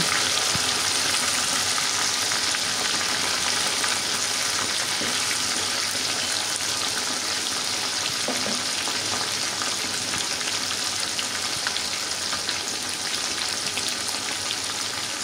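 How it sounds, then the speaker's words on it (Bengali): Chicken legs fry in hot oil while being turned, giving a loud, constant crackling sizzle that fills the whole stretch, with faint scraping as the pieces are flipped and no talking. "এই তো আমি একটু উল্টে পাল্টে সুন্দর করে ভেজে নিচ্ছি।"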